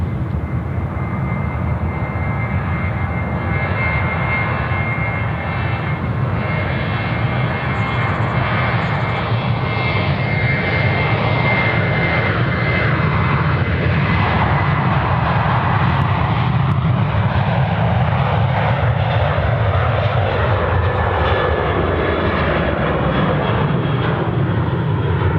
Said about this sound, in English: It is our Retro Roo departing one of two of the liveries in a Retro Roo scheme for the Qantas Boeing 737s.